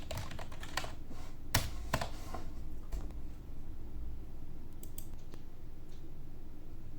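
Keys clack steadily on a computer keyboard as a prompt is typed out, close and fairly quiet, with a few heavier strokes standing out from the run of clicks and no voices.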